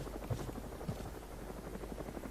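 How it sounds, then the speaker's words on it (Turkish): A helicopter in the video game Next Day: Survival thrums with a steady, low rotor beat, faint and distant throughout. "Vay vay vay helikopter gidiyor arkadaşlar şu an."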